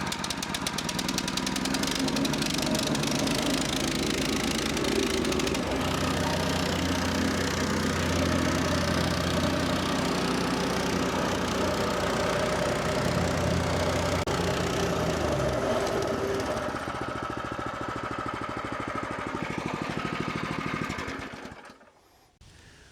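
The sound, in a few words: plate compactor engine running after pull start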